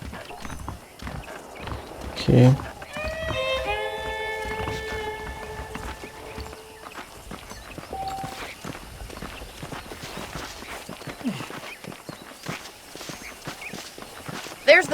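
Horse hooves clip-clop at a steady walking rhythm while riding in the western video game Red Dead Redemption, with a brief whinny early on, a tonal musical swell, and a voice speaking briefly over the footfalls.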